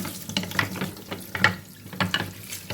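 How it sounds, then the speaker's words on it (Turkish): Tap water runs over wooden spoons being rinsed at a kitchen sink, giving a steady splashing hiss with small knocks and clatters of the spoons, close and moderately loud. "Hemen buraya suyu açıyorum, duruyorum bunları."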